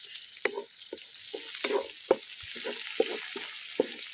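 Onion, ginger and garlic frying together for a stingray dish cooked outdoors, giving a steady close sizzle with repeated stirring clicks and scrapes in the pan.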